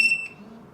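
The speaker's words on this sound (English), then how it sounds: "Okay, I will change them to beep" A Retekess TD173 restaurant pager gives a sharp, high electronic beep right at the start, close and loud, then fades into a faint tail with no one speaking.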